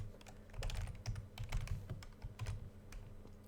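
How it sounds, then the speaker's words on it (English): Fingers type on a computer keyboard, producing a quiet, irregular run of close key clicks and taps with no talking. "I'd be able to type in the word hello"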